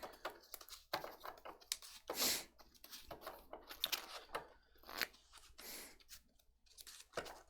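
A hand of Pokémon trading cards is shuffled into the deck, giving a series of quiet, close riffling snaps and soft slaps in irregular bursts, with no speech.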